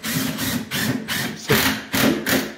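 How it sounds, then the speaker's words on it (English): Screws driven through cabinet nailers into wall studs while installing a floor-standing closet, heard as repeated bursts of power-driver whirring with ratcheting, woody grinding, several pulses in steady rhythm, close and fairly loud. "We put another screw,"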